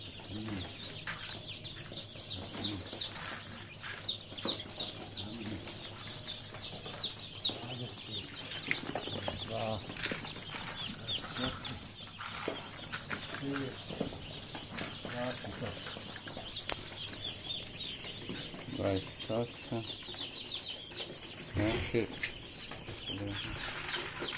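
Newly hatched chicks from an incubator, 78 from 81 eggs, peep and cheep continuously in a dense chorus, with occasional fluttering, while people talk nearby throughout.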